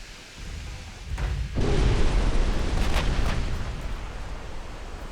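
Torpedo hits exploding against warships in a naval battle game, a deep rumbling blast swelling after a second and roaring on with crackling bursts, loud and close, no talking.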